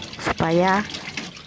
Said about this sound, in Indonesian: Kita cuci di air mengalir.